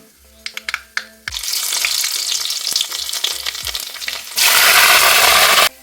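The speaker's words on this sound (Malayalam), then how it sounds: "കടുക് പൊട്ടിയിട്ടുണ്ട് ഇനി ഇതിലേക്ക് കറിവേപ്പിലയും വെളുത്തുള്ളി ഇട്ട് കൊടുക്കാം" A few sharp pops of mustard seeds crackling in coconut oil lead into a loud, continuous sizzle as curry leaves and garlic go in, surging again briefly near the end.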